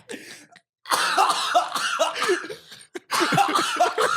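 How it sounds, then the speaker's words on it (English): Harsh, repeated coughing fits close to the listener, a short burst, a pause, then longer raspy bouts of coughing. "Can you stop coughing like that?"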